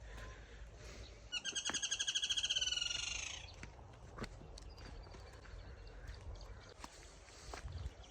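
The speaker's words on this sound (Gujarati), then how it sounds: "પક્ષી બોલ્યું" A bird gives a rapid, rising series of bright calls for about two seconds, then quiet outdoor ambience with a few faint clicks.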